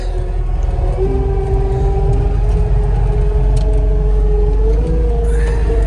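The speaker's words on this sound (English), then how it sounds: "All right, truck's here." A delivery truck bringing pool supplies idles and rolls in close by, a loud low engine rumble with a steady drone that shifts slightly in pitch, no talking.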